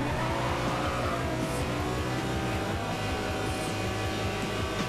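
A sports car is driven in the racing game Forza Horizon 2, its engine a loud, continuous drone with shifting tones throughout, and no voices over it.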